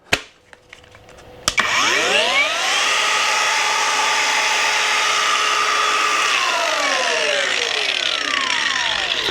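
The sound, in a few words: KINCROME battery grinder running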